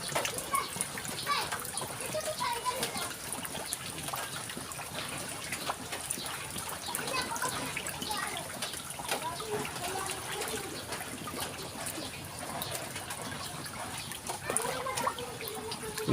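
Flood water after rain in Hagunoy, Taguig, with people bathing in it, gives a steady wash of splashing and trickling water, fairly faint and distant, while a voice talks over it.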